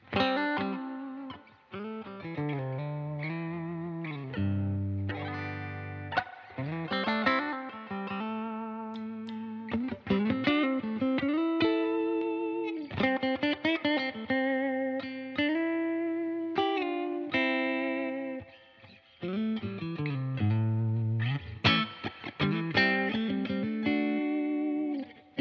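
An electric guitar played through a UAFX amp-emulation pedal with reverb added, ringing out sustained chords and melodic runs in a slightly driven tone with a spacious wash, steady and alone for the whole stretch.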